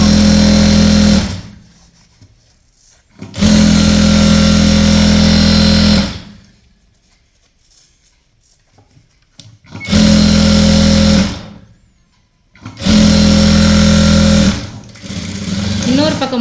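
An electric sewing machine stitches a maxi dress seam in four loud, steady bursts of several seconds each, close up, separated by near-silent pauses with a little speech.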